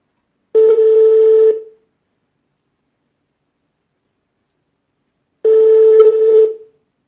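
A telephone keypad sounds two separate steady dialing tones about a second long each, loud and close, divided by several seconds of silence.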